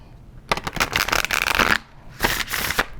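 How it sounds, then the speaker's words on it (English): A tarot card deck with stiff cardstock is riffle-shuffled up close, making two loud bursts of rapid flapping and clicking that are split by a short pause. "I can shuffle it, but it requires notable effort."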